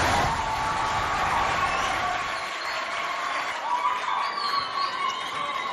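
Applause for a school quiz team at a televised contest, a steady sustained clapping from a crowd that stays loud throughout and eases slightly midway, with no one speaking.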